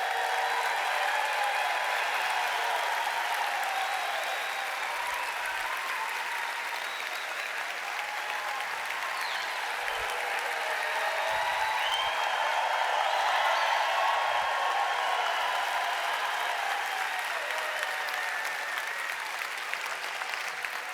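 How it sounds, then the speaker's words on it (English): A convention audience gives sustained, dense applause for a honored staff member, a steady roar of many hands clapping for about twenty seconds with no talking over it. "Give him a nice round of applause."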